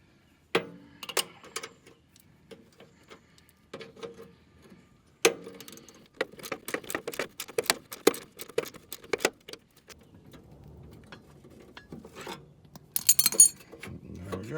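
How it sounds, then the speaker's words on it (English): A half-inch wrench and socket clink and tap against metal while a tensioner is refitted on a Husqvarna 580RSW self-drive mower, producing sharp, irregular close metallic ticks and rattles in quick clusters over a quiet background. "Let's see if we can get our 1/2-inch wrench on it. And our 1/2-inch socket."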